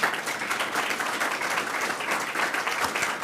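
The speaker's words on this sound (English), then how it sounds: "Can we give them a round of applause?" A crowd applauding steadily, dense overlapping claps sustained throughout at even loudness, no voices on top.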